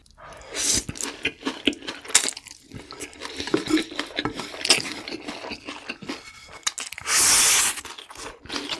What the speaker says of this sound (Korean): 아, 파 아삭아삭하니 식감이 너무 좋아요.